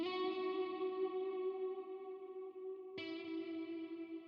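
An electric guitar processed with reverb and EQ in an FL Studio mix, two sustained, shimmering notes ringing out with a smooth, spacious tail, the second attack arriving around the three-second mark.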